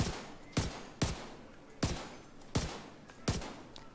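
Six single shots from the Liberty pistol in the video game The Division 2, fired at an irregular pace, each a sharp crack with a decaying tail, with no talk.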